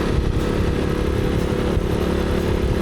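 A motorcycle engine drones loud and steady from up close while riding a road in Ladakh, a continuous rumble with rough clatter and no pauses.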